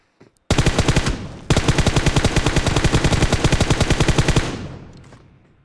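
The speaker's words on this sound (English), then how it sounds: "Now taking shots on that player of Kerala Supreme." Sustained rapid automatic fire from an M416 rifle in PUBG Mobile: a short burst, a brief pause, then a long, loud, even stream of shots that tails off with echo.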